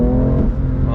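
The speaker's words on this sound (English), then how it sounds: "On throttle, here we go." A BMW M2 Competition accelerates hard on throttle from inside the car. Its engine roar is loud and rising, with a voice speaking over it.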